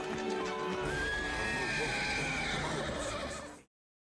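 A horse whinnies loudly and at length in the film The Mask of Zorro (1998), a shrill, wavering neigh that cuts off abruptly at the end.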